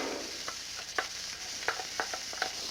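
Five large white onions and chopped garlic cook in olive oil over a broad, steady sizzle, with intermittent soft clicks and scrapes of a spoon stirring the pan.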